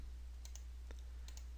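Several sharp, faint mouse clicks in quick pairs, made while right-clicking a folder in CAD part-modeling software, over a low steady hum with no talking.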